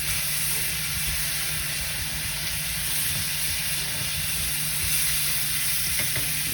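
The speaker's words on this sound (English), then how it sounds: "you just keep basting the pork chop in butter" A pork chop sears in butter in a hot pan, giving a steady, loud, close sizzle and hiss that holds without a break.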